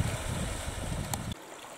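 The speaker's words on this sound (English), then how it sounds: "as the water continues to flow. And then down into the loch." A Scottish hill burn flowing down into a loch, a steady close rushing of water that thins abruptly partway through, with no voices.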